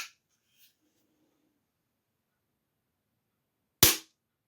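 The top cover of an FAS 604 mk2 single-stroke pneumatic .177 target air pistol snaps shut in one sharp, close click during dry fire, after near silence and a few faint earlier ticks.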